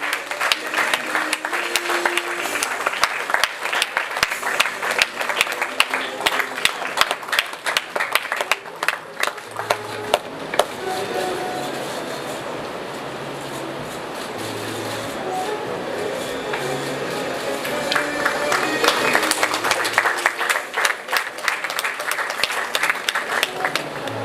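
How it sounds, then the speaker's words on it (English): Audience at a literary awards ceremony applauding, dense sustained clapping from a large crowd that dips midway then swells again, filling the hall for over twenty seconds without talk. "give him a bigger round of applause because he certainly deserves it"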